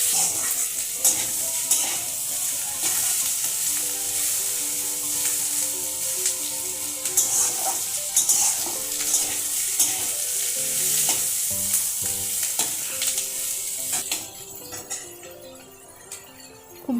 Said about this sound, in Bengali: এটা আমি হাই ফ্লেমেই ভাজছি